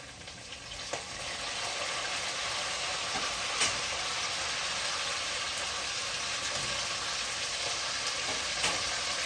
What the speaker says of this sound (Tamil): இப்போ கருவேப்பிலை போட்டுக்கொள்கிறேன்